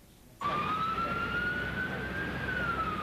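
Ambulance sirens wail in New York City near the World Trade Center site after the 9/11 attack, a loud steady siren tone cutting in abruptly and holding over road noise.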